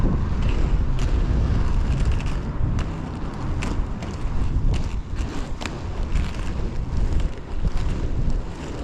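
Strong wind roars and buffets the microphone while someone skates outdoors into a headwind, a loud, continuous, rumbling rush with small gusts and rattles and no talking.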